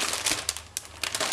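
Crinkly plastic packaging rustles in short bursts, close and fairly loud, as chipboard craft pieces are pulled from a box.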